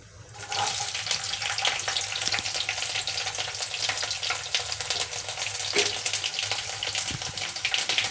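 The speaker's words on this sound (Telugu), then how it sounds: "ఆవాలు వేసుకున్నాము చుట్టుపట్టిన ఆవాలు ఆడుతున్నాయి కదా వెల్లుల్లి ముక్కలు" Mustard seeds and chopped garlic fry in hot oil for a cabbage curry, giving a loud, continuous close sizzle with small crackles and no talk.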